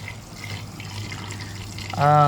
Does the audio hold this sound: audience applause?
no